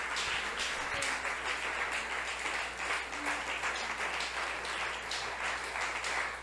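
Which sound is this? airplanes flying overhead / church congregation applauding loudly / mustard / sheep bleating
church congregation applauding loudly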